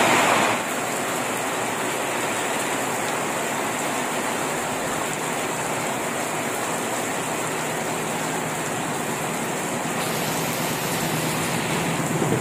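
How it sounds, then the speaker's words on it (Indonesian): Heavy rain pours down steadily at an abandoned railway halt, a dense, loud, unbroken hiss that holds evenly throughout with no voices. "Ini kondisinya hujan deras banget."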